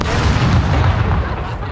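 Dense, rumbling explosions and booming blasts from the game SCUM fill the whole stretch, loud and continuous with heavy low-end thuds.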